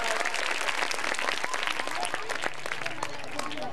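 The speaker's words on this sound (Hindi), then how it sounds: "तालियां बजा दीजिए बच्चों, सब जोर जोर से, शाबाश, जोर जोर से, शाबाश।" Children clapping loudly at a stage performance for flood-affected kids, dense applause filling the whole stretch with an adult voice calling out over it.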